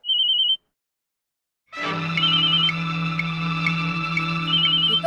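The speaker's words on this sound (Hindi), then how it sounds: "संजू के मोबाइल की रिंगटोन है" A mobile phone ringtone plays indoors in a TV drama scene, a short electronic tone, a pause of about a second, then a loud close melodic ring continuing to the end, with no talk over it.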